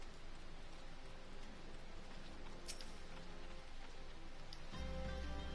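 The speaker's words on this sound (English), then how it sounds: "Oh, it's raining." Rain falls in the video game Final Fantasy XIV as a soft, constant patter of drops under a low ambient bed, quiet and unbroken, with a faint tonal swell entering near the end and no speech.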